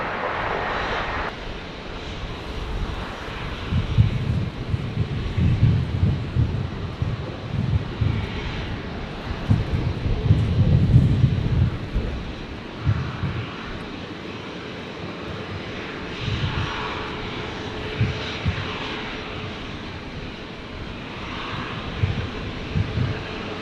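A passenger airplane takes off from Brisbane airport, its broad engine roar swelling and fading at moderate distance, with a steady low rumble and some wind noise throughout.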